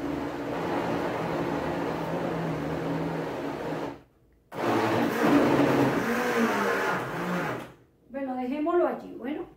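A blender churns papier-mâché pulp in loud, steady bursts, stopping briefly and restarting, with a voice speaking briefly at the end.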